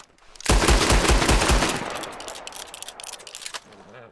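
Rapid gunfire from a Cattleman revolver in a shooting video game cracks out in a fast, loud burst of evenly spaced shots, then trails off into a ringing, echoing decay with a few scattered later pops.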